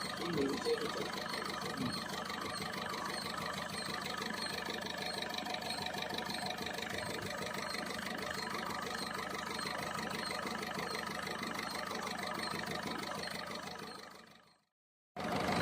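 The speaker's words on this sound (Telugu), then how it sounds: "ఇంజిన్ యొక్క నాయిస్లో కొద్దిపాటి వేరియేషన్ అనేది మనం ఇప్పుడు గమనించడం జరిగింది" A Ford Figo engine with an injector fault idles continuously, a steady mid-to-low mechanical hum with slight variation in its noise, running evenly before cutting off abruptly near the end.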